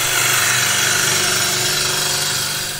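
A wood lathe turning while a tool cuts the spinning wood, a loud, continuous broadband rushing scrape held steady throughout, close up and alone.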